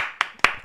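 Three sharp hand claps spaced roughly evenly, close and crisp, with no talk over them.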